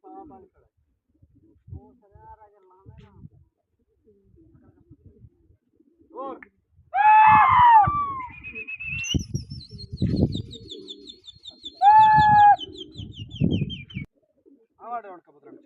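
Pigeons at a pigeon-flying contest give short bright calls and chirps in bursts, close and loud at moments, amid scattered knocks and handling noises and stretches of near quiet, with people talking intermittently.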